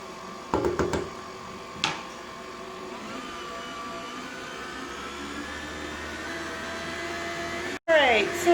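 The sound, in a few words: electric mixer mixing cocoa powder into cookie dough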